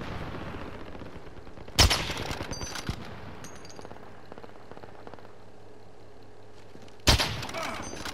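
Gunfire in Call of Duty: Modern Warfare at an airport map: two sharp, loud bursts of shots several seconds apart, each ringing out briefly over a low, steady background rumble.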